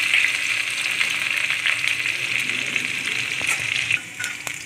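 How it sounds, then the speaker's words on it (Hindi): Green chillies frying in hot oil spiced with cumin and bay leaf, a steady bright sizzle throughout that dips slightly near the end with a few faint clicks of stirring. "हरी मिर्ची भून देंगे"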